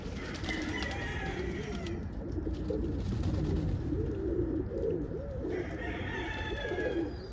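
Pigeons or doves coo repeatedly in soft, rolling phrases on a rainy Christmas Day, close by, over a constant patter of rain and a steady high hiss.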